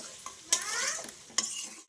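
Offal curry of liver and stomach is stir-fried in a pan. A close, continuous sizzle runs throughout, broken by two sharp scraping strokes of the spoon against the pan.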